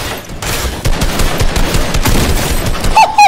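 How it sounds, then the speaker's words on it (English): In the Fortnite video game, a player fires at an opponent through a wall, producing loud, dense, continuous bursts of rapid gunfire. A few brief high chirping tones sound near the end. "I just shot this guy through a wall!"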